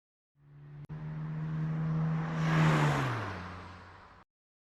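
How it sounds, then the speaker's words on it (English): A distant car passes by, its hum swelling and fading over a few seconds with a falling engine pitch as it goes, heard alone without talk. "I have to see if I find the sound of a car that is really far away"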